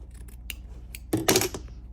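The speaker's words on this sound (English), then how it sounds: "basically I'm just gonna go trim it" Scissors trimming quilt fabric and bias binding for a half-hexie table runner, one short crisp snip near the end after faint handling sounds in a quiet room.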